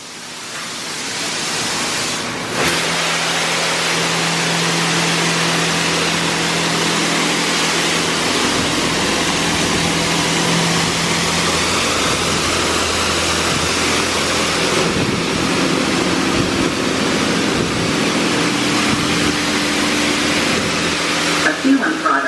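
An automatic car wash spraying a protective product onto a vehicle: a steady, loud rushing hiss of spray with low machinery hum, heard close from inside the car.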